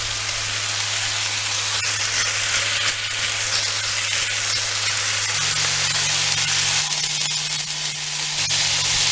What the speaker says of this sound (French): Ajoutez les oignons émincés et laissez revenir environ 10 à 15 minutes en remuant de temps en temps.